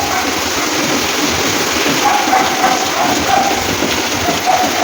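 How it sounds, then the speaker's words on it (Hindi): Heavy daytime rain pours down in a steady, dense, close roar with no pauses, and light wind blends into the downpour. "11:30 बज गए हैं तो शुरू हो गई है बारिश।"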